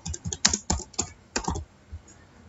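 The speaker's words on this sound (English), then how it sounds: "type control panel." Keys tapped on a computer keyboard while entering a search in Windows 10, a quick irregular run of clicks that bunches into short bursts and then trails off into a few scattered taps, near and clear with no voices.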